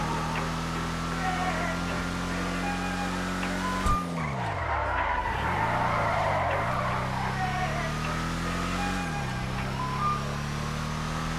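Cars driving and skidding in GTA V, a steady engine drone with gear-shift dips and bursts of tire squeal, loud and continuous throughout with no talking.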